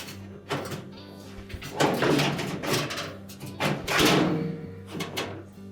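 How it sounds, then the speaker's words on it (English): A dryer motor bracket is lifted and slid back during a GE dryer blower-wheel repair, giving a run of close, hollow metallic thumps, scrapes and knocks in uneven bursts. "So we're just going to lift up on that motor bracket, slide it back"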